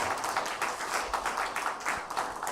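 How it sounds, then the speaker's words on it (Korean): Steady applause from a church congregation thanking the choir at a New Year's Eve service, many hands clapping together at a moderate distance, continuing evenly throughout. "우리 성가대원들에게 감사의 박수 하겠습니다"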